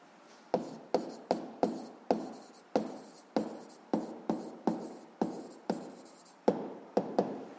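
Pen or chalk writing out a physics solution for a seventh-grade problem, about a dozen sharp rhythmic strokes and taps in quick succession, close and fairly loud, with no talking.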